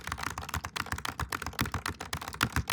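Rapid, steady keystrokes on a computer keyboard while entering sample text with a text tool in design software, close and crisp with no talk.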